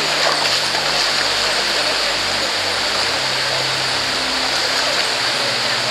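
Steady rushing stream water runs loud and close at a river crossing on a mountain race course for blind runners, a continuous broadband wash with no voices.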